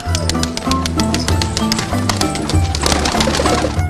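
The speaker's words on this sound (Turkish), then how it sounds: "sabahın ilk ışıklarıyla birlikte daha kahvaltı bile yapmadan güvercinlerinin karnını doyuruyor" Pigeons in a rooftop coop coo at close range while being fed at dawn, a dense continuous layering of low coos mixed with rapid pecking and rattling taps.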